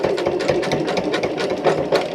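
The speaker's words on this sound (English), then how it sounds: "we are gonna go ahead and just turn the panel and stitch off this side" Sewing machine running steadily to stitch down the side of a curtain panel, a continuous close, loud whirring buzz with a fast pulsing rhythm and no voices.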